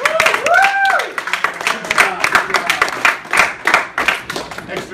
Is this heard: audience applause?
yes